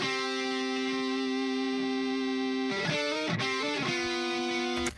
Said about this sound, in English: back to the Harmony guitars. They sound like this.